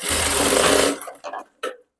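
A sewing machine runs a lakh stitch along the edge of a boat neck princess cut blouse, a steady close motor drone for about a second, followed by a few short stitching bursts with pauses.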